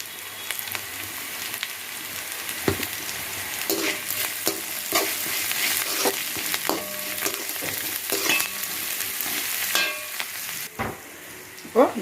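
Onions fry with asafoetida in a pan, crackling and sizzling continuously at moderate volume, with occasional scraping stirs and clicks of a spoon against the pan.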